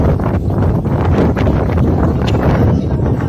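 Strong wind on the slopes of Mount Riwata in Rizal buffets the microphone with a loud, continuous rumbling roar that barely lets up.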